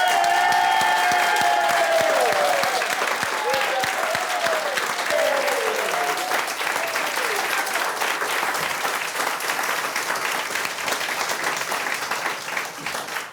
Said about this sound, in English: so big round of applause, okay?